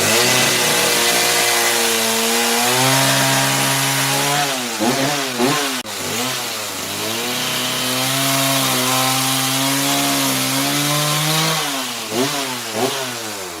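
A chainsaw carving a log into a bald eagle drones loudly and steadily, its engine pitch rising and falling as it bites into the wood, with repeated quick revs.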